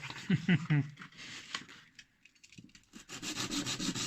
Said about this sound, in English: adjust it a little using, guess what? Yes, you guessed it right. Sandpaper.